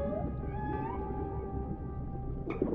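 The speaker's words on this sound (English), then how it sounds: "That sounds just like a dolphin." Pink dolphin calls from the video game Dave the Diver: a few high, whistling chirps and squeaks over a steady low underwater rumble, with a brighter burst near the end.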